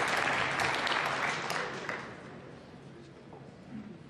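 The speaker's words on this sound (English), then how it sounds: "Yeah, the crowd clapping." Applause from a crowd at a professional pool match, a dense burst of clapping that starts full and fades over a few seconds.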